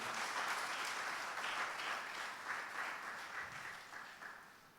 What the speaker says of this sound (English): A mighty clap for the glory of God, my dear friends.